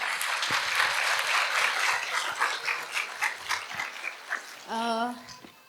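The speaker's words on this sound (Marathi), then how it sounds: "त्यांच्यासाठी एकदा आपण टाळ्या वाजवूया" An audience at a school annual gathering claps for the parents, dense loud applause that thins into scattered claps before a voice begins speaking.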